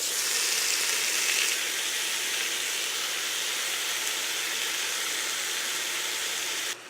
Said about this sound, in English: So I'm gonna brown the half of it first before I put the other half in